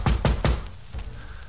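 Knocking on the door of a second-floor apartment as a 1953 radio drama effect: three firm knocks in quick succession, then a fainter fourth, close and distinct.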